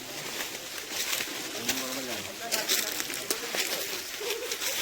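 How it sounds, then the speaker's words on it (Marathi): Birds calling in a quiet morning forest near a dam backwater, with soft cooing and scattered chirps at a moderate distance over faint ambient noise. "सकाळी जंगलातील शांतता, पक्ष्यांचा सुमधुर आवाज अनुभवण्यासाठी"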